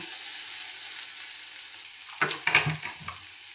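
Poppy seed paste ground with green chillies is added to a pan of fried onion and tomato, giving a quiet low hiss that breaks into a short burst of sizzling and stirring near the end.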